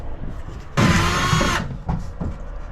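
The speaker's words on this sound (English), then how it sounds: "I have to drill it back out quickly." A power drill whines loudly for just under a second as it bites through fiberglass, followed by a couple of short handling knocks.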